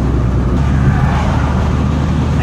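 Cars roar past close by on a road, a loud continuous low rumble of traffic with no pauses.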